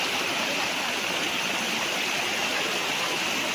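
Clear spring water on a hillside farm in Lucban, Quezon runs in a constant, dense babble, close and fairly loud, holding evenly from start to finish without any voices.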